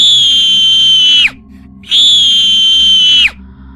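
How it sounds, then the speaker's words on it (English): A woman gives two long, piercing, high-pitched screams as a Halloween sound effect, each held for about a second before breaking off and trailing down, separated by a short pause over a low background hum. "Sound number 6 is a screaming woman."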